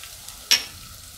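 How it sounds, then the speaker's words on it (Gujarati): Turmeric dropped into hot oil for a Gujarati green pigeon pea curry gives one brief, sharp sizzle burst that quickly fades, alone and close. "હવે આપણે એમાં હળદર નાખી દઉં"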